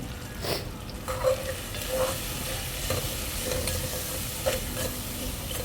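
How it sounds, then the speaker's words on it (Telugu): Biryani masala and ground spices stirred and frying in a pan, a steady close sizzle with soft scraping strokes and a few sharper clinks of the spoon against the pan. "బిర్యానీ మసాలా అన్నీ యాడ్ చేసుకొని బాగా మిక్స్ చేసి బాగా ఫ్రై అవ్వాలన్నమాట"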